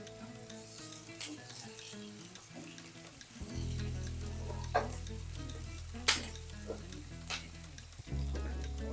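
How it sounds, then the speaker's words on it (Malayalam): Curry leaves and sliced onions frying in oil in a pan for a pumpkin curry, a continuous close sizzle with occasional spatula scrapes and pops, and a low hum from about halfway through. "ഇതിലോട്ട് 2 തണ്ട് കറിവേപ്പില ഇട്ട് കൊടുത്ത്"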